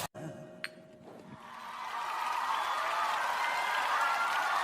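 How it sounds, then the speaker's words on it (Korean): A studio audience on a TV comedy show begins to applaud after a short musical sting, and the clapping swells into a steady, continuous wash that carries to the end. "박수 한번 주세요."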